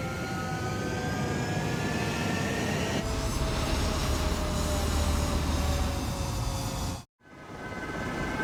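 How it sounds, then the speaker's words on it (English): Fighter jet engines idling and spooling on a runway before takeoff in Ace Combat 7, a steady loud turbine whine and roar with rising tonal whistles that cuts out abruptly near the end and then returns. "Mage 2, clear for takeoff."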